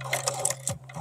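A Chinese eight-direction shoe repair sewing machine stitches in a rapid, close mechanical chatter that stops briefly before starting again.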